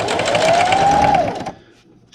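A sewing machine runs a straight stitch in one smooth whirring burst of about a second and a half, then stops abruptly into near silence.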